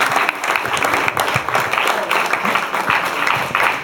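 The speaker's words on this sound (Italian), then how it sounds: "Io farei ancora un applauso a Sergio Enrigo e a Claudio Enrigo." Audience at an award ceremony applauds steadily, a dense, continuous patter of many hands clapping at moderate loudness throughout, with no voices over it.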